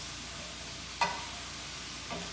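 Shrimp stir-fry in a hot pan with Korean-style stir-fry sauce, a quiet steady sizzle broken by a sharp clink of stirring and a softer scrape later.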